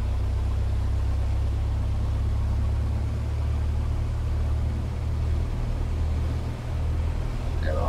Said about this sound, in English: We'll just wait for the RPM to rise, and hopefully should go up to about 1200